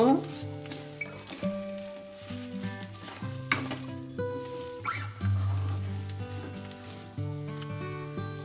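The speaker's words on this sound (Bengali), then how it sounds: "এখন নেড়ে মিশিয়ে নেব" Salt, Kashmiri chilli powder and black pepper are stirred in a hot frying pan, scraping and sizzling beneath prominent background music.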